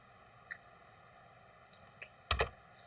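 A few quiet, sparse clicks of a computer keyboard as numbers are typed, followed by a louder double tap near the end, over faint steady background hum.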